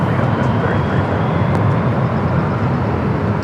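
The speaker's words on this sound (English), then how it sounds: "A350-900. Pushing back from the West Gates." An Airbus A350-900 airliner bound for Paris pushing back from the west gates at Los Angeles International Airport makes a steady, moderately loud engine rumble and hiss that holds evenly without pause.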